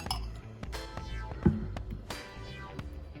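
A spoon stirring pizza sauce in a jar or bowl, giving a quick run of close, bright clinks and scrapes against the container, with one sharper knock midway.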